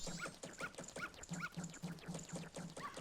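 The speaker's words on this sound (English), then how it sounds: "Go away, dog!" A game dog in The Legend of Zelda: Majora's Mask yips and whimpers in a steady run of short barks, about eight evenly spaced yelps over continuous background game audio.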